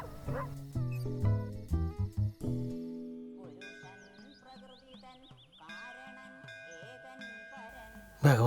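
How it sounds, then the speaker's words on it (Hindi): A dog barks several times in a Hindi movie scene, short yelping barks early on, then tonal film sounds carry on more faintly. "कुत्ता। सही समय पर कुत्ता तो बीच में आ गया।"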